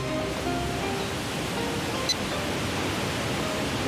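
Steady broadband rush of a waterfall from the video game Shenmue 2, a constant loud roar of falling water with no voices and only a brief faint click partway through.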